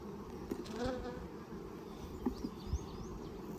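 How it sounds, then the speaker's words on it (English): A honeybee buzzes close by during a hive inspection between stacked hive boxes, a thin continuous drone that wavers as it moves, with a few soft knocks and clicks. "I believe I just accidentally got a bee between the two boxes."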